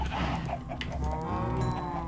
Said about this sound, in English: now it's time to breed the cows again